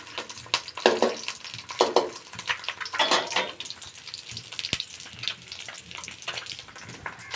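An egg frying lightly in a pan, with irregular bursts of scraping and crackling sizzle over a soft background hiss, no talking.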